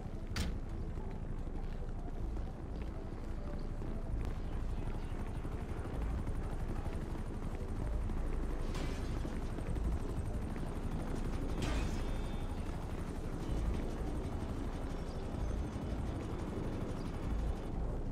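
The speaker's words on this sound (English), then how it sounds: "Your chopper has arrived." Grand Theft Auto V helicopter arriving, its rotors a loud, continuous thudding drone that fills the scene throughout, with occasional sharp clanks and faint game speech.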